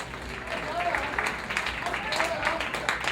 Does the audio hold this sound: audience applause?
yes